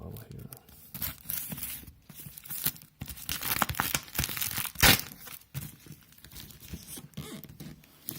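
Foil wrapping torn and crumpled off a Corsair HX1200 Platinum power supply during unboxing, a busy stretch of close rustling, crinkling and ripping bursts with brief pauses, fairly loud and continuous.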